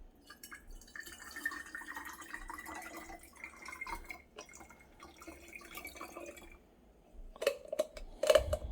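Water poured into the reservoir of a Mr. Coffee espresso machine, a soft trickling stream followed by a few louder drips and clinks near the end.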